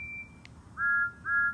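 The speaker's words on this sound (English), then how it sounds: "You blew your whistle at the right time and saved Thomas from an accident." Toy wooden railway engine whistle, a brief thin steady tone followed by a faint click, then two louder sustained whistle blasts close by with a short gap, over quiet background rumble and no voices.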